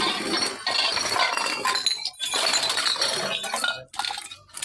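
Glass bottles clink and rattle almost nonstop while scrap bottles, plastic and broken chairs are handled on a collection round, loud and close with brief pauses.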